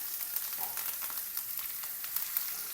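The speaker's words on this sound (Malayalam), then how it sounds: "ഒരു 2-3 തണ്ട് കറിവേപ്പിലയും കൂടെ അതിനകത്ത് ഇടാമെന്നുണ്ടെങ്കിൽ മീൻ പൊടിഞ്ഞു പോകാതെ നമുക്ക് വറുത്തെടുക്കാം" Fish sizzling in coconut oil with curry leaves on a flat tawa, a steady soft crackle and hiss that runs evenly throughout at close range with no voices.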